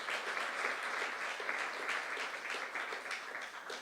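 A church youth congregation claps together during a sermon, a dense, steady crackle of many hands that stays loud and even from start to finish with no voices over it.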